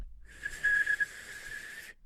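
Someone tries to whistle, producing a single airy, breathy tone that holds for about a second and a half before cutting off, faint and alone.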